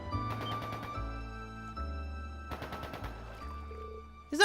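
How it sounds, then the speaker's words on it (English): Rapid bursts of automatic gunfire in the video game The Legend of Heroes: Trails into Reverie, two clusters of fast repeated shots over a low game-music backdrop. "Is that gunfire?"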